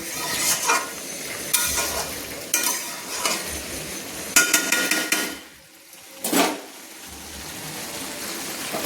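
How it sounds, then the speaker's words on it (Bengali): Yogurt chicken cooked down without water in a pan, stirred with a spatula: repeated scraping strokes against the pan over a steady sizzle, loud and close, with brief pauses between bursts of stirring. "বন্ধুরা আমি আরেকবার খুন্তি দিয়ে ভালো করে নেড়ে নিচ্ছি"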